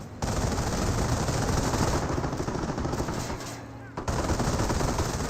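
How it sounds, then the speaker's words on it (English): Gunfire from the real-time strategy game Company of Heroes aimed at a sniper unit, dense overlapping rifle and machine-gun bursts rattling continuously with a brief lull near the end. "Sniper receiving lots of fire there"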